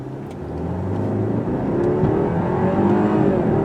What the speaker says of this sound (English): There's more than enough acceleration and passing power on this engine combination